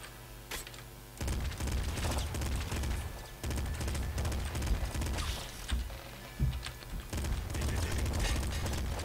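Assault rifle gunfire in the video game Nuclear Throne: dense bursts of rapid shots roll on for several seconds, mixed with mechanical clicks and a low game hum.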